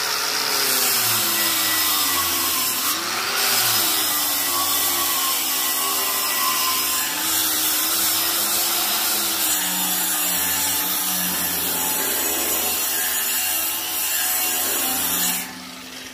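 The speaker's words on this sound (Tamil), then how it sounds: "இது பார்த்தீங்கன்னா மிஷினில் தேய்க்கிறதால எவ்வளோ சீக்கிரமாக தேய்க்குதுன்னு பாருங்கள்." A power grinder scrubs rust off a metal terrace garden stand, a loud, continuous abrasive whir with a steady rubbing texture that holds for the whole stretch and drops off at the end.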